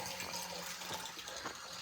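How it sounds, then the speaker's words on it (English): Water flowing steadily from a mountain water source beside a hiking trail on the Via Alpina between Resiutta and Rifugio Grauzaria, a continuous soft rushing trickle heard nearby without voices. "There's a water source here"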